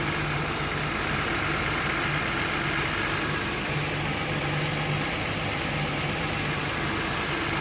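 A 2007 Lexus RX 350 engine idles in a steady, close, even hum with a faint low rhythmic pulse and a continuous noisy wash.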